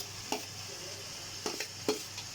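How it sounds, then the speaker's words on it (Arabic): Onions sizzle in a frying pan for a liver dish, a low steady hiss broken by three sharp spoon scrapes against the pan. "بنزل عليها بقى ايه؟ بالبصل."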